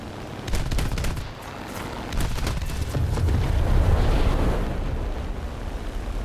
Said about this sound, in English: As you can see, that 37mm has a surprisingly high rate of fire considering its caliber.